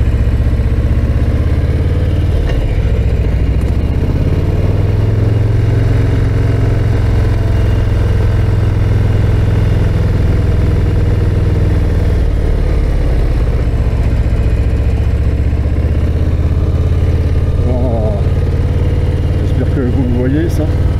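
Harley-Davidson Low Rider ST motorcycle riding over the Col de la Madeleine mountain pass, its engine a loud continuous low rumble with shifting revs, heard under a rider's talking.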